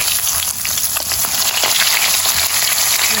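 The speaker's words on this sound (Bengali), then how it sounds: "ইলিশটা ভাজা হইলো" Hilsa fish pieces frying in a pan give a loud, dense, continuous sizzle and crackle close by, steady throughout with no voices.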